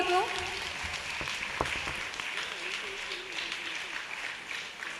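An audience at a cultural heritage gathering in Palakkad breaks into steady applause, a dense patter of hand claps that carries on throughout with voices mixed in.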